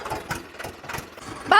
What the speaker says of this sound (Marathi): वहिनी ट्रॅक्टर लय रेसवायला आलाय